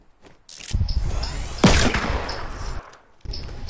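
Pistol gunfire in a shooter video game, a few sharp shots ringing out close and loud, with one especially strong blast near the middle, set among brief gaps of game background noise.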